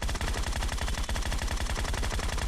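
Rapid automatic gunfire from a PC first-person shooter game, a steady burst of evenly spaced shots repeating about ten times a second, loud and continuous with no talk.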